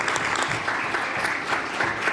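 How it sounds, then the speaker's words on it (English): Members of a legislative House of Assembly applaud during proceedings, a sustained, even patter of many hands clapping throughout with a faint murmur beneath. "Ask everyone to give you a warm applause."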